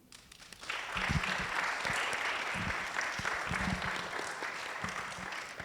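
An audience at a panel discussion with artists applauds, a dense sustained round of clapping that swells in after a quiet start and holds steady, with a few sharper individual claps standing out.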